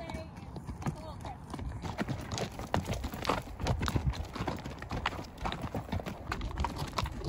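Horse hooves clip-clop steadily along a trail during a sunset ride, the rhythmic footfalls close and moderately loud, with riders talking over them and occasional rustle in the background.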